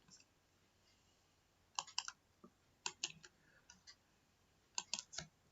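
Computer keyboard keys tapped in small clusters while entering numbers into a Java program, crisp quiet clicks in short irregular bursts with silent gaps between, close by and with no talk.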